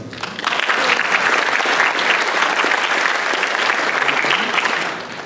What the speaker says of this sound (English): give Leonard a big applause